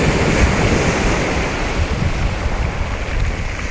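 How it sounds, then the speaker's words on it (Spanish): Mediterranean sea waves wash steadily against the shore, a loud, continuous surf roar with wind buffeting the microphone and no voices. "estamos frente al Mediterráneo y escuchando el sonido del mar"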